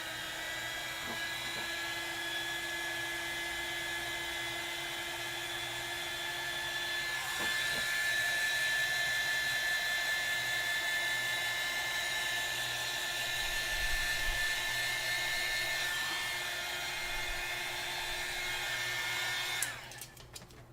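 A hair dryer blows steadily on drying alcohol marker coloring, a loud, constant whirring drone held for about twenty seconds before it shuts off, with no talking.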